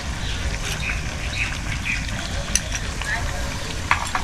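Salted chicken pieces sautéed in spiced oil for a Bengali chicken korma, a steady low sizzle with occasional soft scraping and clinks of a spoon in the pan.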